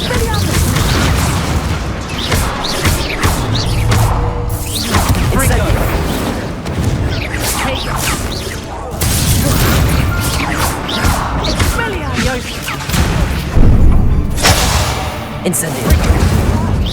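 Fire spell cast repeatedly in Hogwarts Legacy, heard as loud booming bursts and crashing impacts amid continuous combat noise and game music, with a voice calling out spell names.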